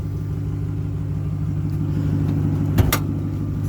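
A supercharged 2006 Ford Mustang GT V8 with a Whipple blower idles in a steady low rumble, close by and alone, with a brief sharp click or knock near the end.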